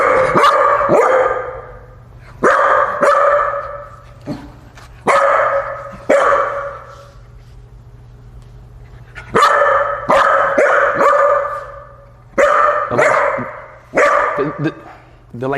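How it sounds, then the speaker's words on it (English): A dog barks in loud, repeated bursts of several sharp barks each, close to the microphone, reacting to two new cats in a home. Long pauses separate the bursts. "you're gonna start barking again"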